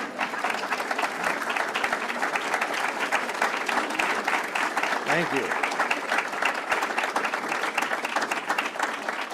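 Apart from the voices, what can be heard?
audience applause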